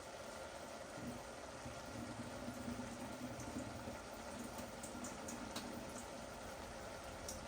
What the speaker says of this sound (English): We're just draining carrot water.